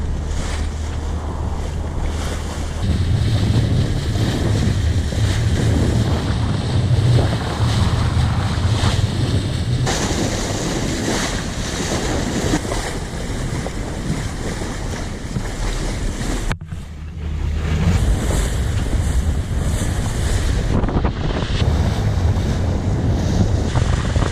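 A sailboat under way in open blue water, with steady wind buffeting the microphone and waves washing against the hull, loud and continuous throughout with a brief dip partway.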